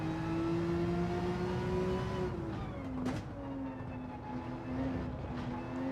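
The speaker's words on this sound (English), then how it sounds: "Can you still hear the audio for the car?" A steady car engine drone from a racing video game holds a sustained pitch, dipping briefly before settling back into an even, continuous hum, with no talking.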